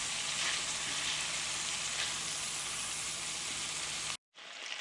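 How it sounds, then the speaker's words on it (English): Rabbit pieces brown with minced garlic in a hot pan, giving a constant loud sizzle that drops out abruptly near the end before resuming more faintly. "still browning the rabbit, and we just added 1/2 tablespoon of minced garlic"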